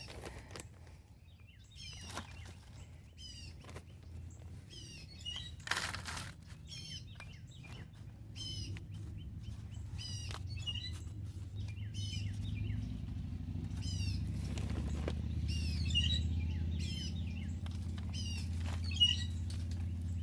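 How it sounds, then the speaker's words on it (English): An agitated bird calls repeatedly overhead in a garden, short sharp chirps in irregular bursts over a faint low outdoor rumble, fairly distant and quiet. "I have a very angry bird above me."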